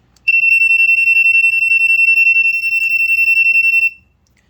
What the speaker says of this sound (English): As you can hear, it is very high-pitched and pulses very fast.